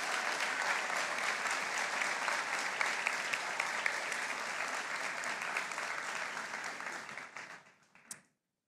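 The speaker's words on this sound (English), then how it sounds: "Give a big round of applause." Audience at a university white coat ceremony applauds the staff, a loud dense wash of clapping that holds steady and then tapers off, ending with a last clap.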